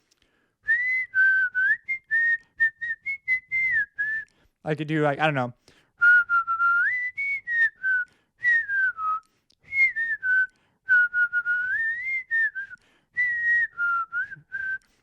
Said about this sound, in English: Now my whistling in less than a week sounds like this.